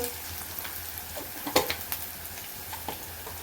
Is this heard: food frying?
yes